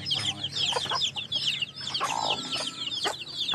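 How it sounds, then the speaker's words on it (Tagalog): Hens with chicks cluck and chatter busily in a backyard flock, with many overlapping bird calls nearby, steady throughout. "Ito yung mga inahin na may sisiyo yan."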